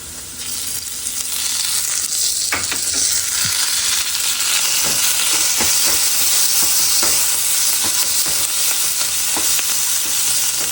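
Potatoes frying in butter with garlic for a homemade breakfast, a loud, steady, close sizzle with occasional clicks and scrapes of stirring throughout.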